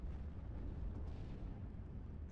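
Mortar explosions from a bombardment in the video game Steel Division: Normandy 44, a steady, dense low rumble with no distinct individual blasts.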